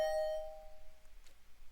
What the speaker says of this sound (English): Hearing the doorbell stubbornly ringing again and again, I finally got up